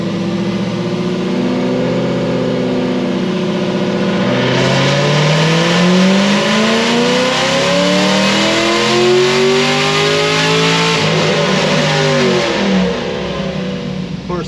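RPM Stage 4 car engine revving hard on a dyno, a loud close roar climbing steadily in pitch through the gears over several seconds before easing off near the end.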